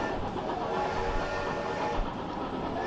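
A train runs along the tracks in the video game Chris Sawyer's Locomotion, a steady, fairly faint rumble with a soft clatter.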